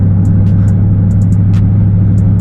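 A 2015 Dodge Challenger Hellcat driven on light throttle, its engine a loud, steady low drone heard from inside the car with faint ticks and small bumps on top.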